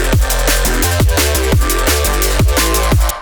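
Electronic synth bass drop with its EQ cut taken off, deep sub-heavy notes pulsing in a steady repeating rhythm with bright layered tones on top, loud and full, no voices.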